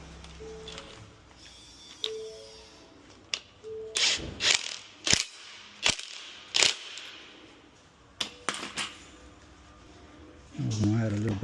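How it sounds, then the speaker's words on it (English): A ratchet tightens a lock nut on a 2016 Ford Mustang GT rear shock, giving bursts of sharp clicking strokes with pauses between, close and fairly quiet. "Going to go ahead and install it. I'm going to tighten it down."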